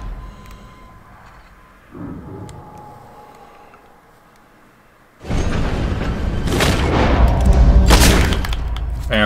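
Gunfire in Red Dead Redemption 2: quiet game ambience with a soft thud, then a sudden loud burst of shots and booming echoes that stays intense, with sharper cracks near the end.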